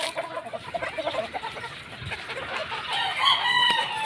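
Gamefarm cockerels crow and cluck continuously outdoors before feeding, several birds at moderate distance overlapping into a steady chorus.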